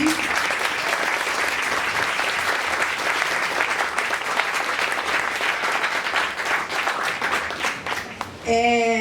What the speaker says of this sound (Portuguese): chamar uma salva de palmas para todos vocês que estão aqui